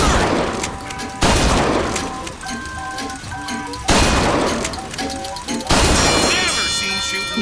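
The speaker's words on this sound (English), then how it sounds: "Never seen shooting like that." Heavy gunshots boom in the BioShock Infinite video game, four loud blasts spaced a couple of seconds apart with crashing, ringing debris after each, and people talking underneath.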